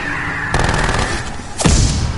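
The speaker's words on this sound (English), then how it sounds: "Deploying sentry turret." A sentry turret in Call of Duty Cold War Zombies lets off loud, close bursts of rapid automatic fire, with a heavy thump as a second burst begins.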